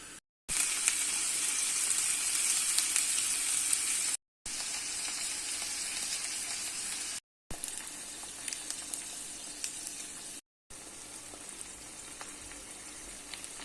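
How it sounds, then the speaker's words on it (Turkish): Onions sauté in a pan before purslane goes in, producing a soft steady sizzle with faint stirring ticks, heard in several short segments split by brief silences. "Önce soğanlarını biraz kavuruyorum. Sonrasında temiz otlarını atacağım."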